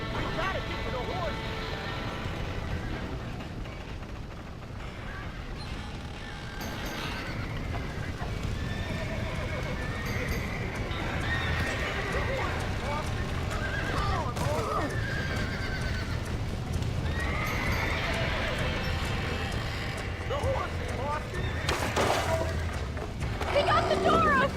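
Red Dead Redemption horses whinny and neigh repeatedly while hooves clip-clop steadily throughout, with shouting voices of game characters layered over the commotion and some water sloshing sounds in the background.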